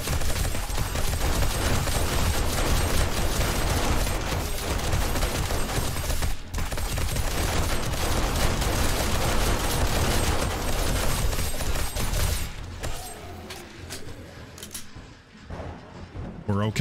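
Automated SMG turrets fire in sustained bursts at a horde in the video game 7 Days to Die, a dense, loud rattle that runs steadily before thinning and fading near the end.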